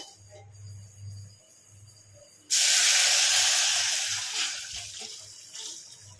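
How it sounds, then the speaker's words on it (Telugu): Tamarind juice is poured into a hot tempering for a village-style raw tamarind soup (pachi pulusu). After a quiet low hum, it erupts into a sudden loud, steamy sizzle that holds strong and then slowly tapers off. "ఇప్పుడు మనం చింతపండు రసాన్ని వేసుకున్నాం ఇందులో"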